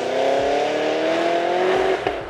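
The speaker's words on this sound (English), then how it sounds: "the second you breathe on the gas, you're surrounded by a symphony of noise and fury" A 2016 Cadillac CTS-V's supercharged engine revs hard under acceleration, a loud, steady, rising roar lasting the whole moment with a slight dip near the end.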